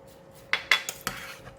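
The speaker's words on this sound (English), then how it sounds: "Just give it a stir." A spoon stirs a pot of tofu and crab ball soup with vegetables, spring onion, cilantro and fried shallots, giving four or five close clinks and scrapes against the pot over a quiet background.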